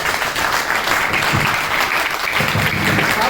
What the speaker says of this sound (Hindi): जबरदस्त तालियां सर के लिए